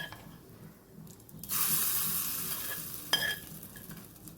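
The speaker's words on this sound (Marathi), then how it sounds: "तुपाची छान फोडणी केली आहे आता ही दोन्ही चटण्यांवर मी घालणार आहे" Hot ghee tempering poured over two chutneys sets off a sudden loud sizzle that starts partway in and hisses steadily to the end, with a short sharper crackle near the end.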